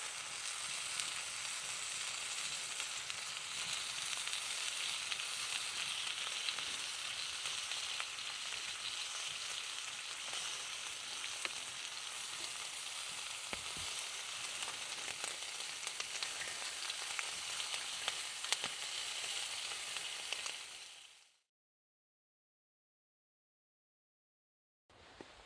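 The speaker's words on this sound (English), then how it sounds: "The sizzle." Steady crackling sizzle of bacon frying in a pan, close and continuous, then it cuts to silence near the end.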